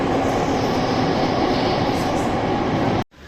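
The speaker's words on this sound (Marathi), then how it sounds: "आणि हे अशा प्रकारे स्टेशन आहे आणि हे मेट्रो स्टेशन" A metro train runs with a loud, continuous rumble and hum, cutting off abruptly near the end before the noise returns more quietly.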